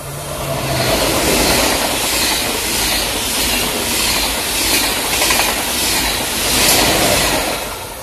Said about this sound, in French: TGV duplex pour Annecy.